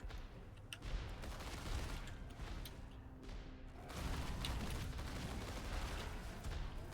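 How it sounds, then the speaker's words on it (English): Rapid video-game gunfire aimed at an egg, a dense, continuous barrage of shots that stays loud throughout and briefly dips in the middle before swelling again. "I was shooting at the egg."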